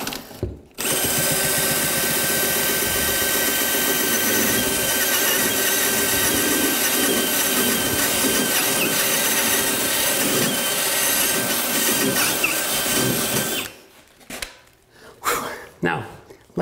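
A hole saw bores through wood with a loud, continuous power-drill whine and grinding that runs for most of the stretch, then stops, leaving a few short bursts of handling noise at the end.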